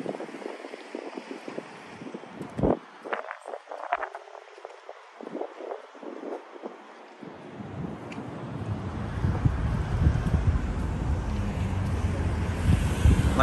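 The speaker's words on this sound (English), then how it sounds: "little bit windy today, but the temperature is pretty nice." Wind gusts across an outdoor street in downtown Louisville, building from light buffeting into a steady, heavy rumble on the microphone, with a few scattered background noises early on.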